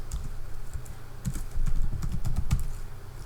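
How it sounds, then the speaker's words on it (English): Steady typing on a computer keyboard during graphic design work, with rapid clustered key clicks at close range over a low background hum and no speech. "and then I'm going to type"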